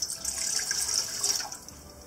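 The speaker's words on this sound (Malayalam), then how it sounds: "ജാം തയ്യാറാക്കുന്നതിനായിട്ട് ഒരു പാനിലേക്ക് 1 കപ്പ് വെള്ളം ഒഴിക്കാം" Water pours steadily into a cooking pan for rose petal jam, a continuous bright splashing stream running for about two seconds, close and alone.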